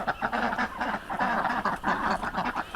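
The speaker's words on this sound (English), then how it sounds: "And the ducks are over here. They're eating up and they're preparing." A flock of ducks quacks and honks while feeding outdoors, a busy, continuous chatter of calls close by.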